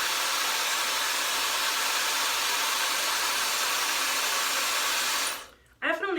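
A hair dryer fitted with a diffuser drying curly hair, a loud, steady whooshing roar held close for about five seconds before it is switched off, leaving a short spoken remark.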